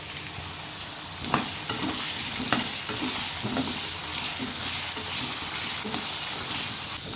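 Potatoes frying in hot oil with salt and turmeric, a steady close sizzle with a few soft stirring knocks and scrapes scattered through, no voices.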